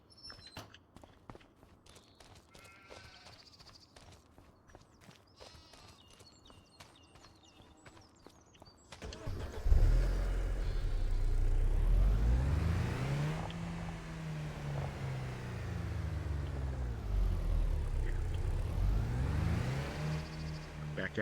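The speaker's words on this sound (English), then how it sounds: "let's go get in our Skoda and we'll have us to drive around the map" A Skoda car is driven around a video game farm map with plowed and wheat fields, its engine starting midway and droning loudly, rising and falling in pitch as it revs, after a quieter stretch of clip-clop-like tapping.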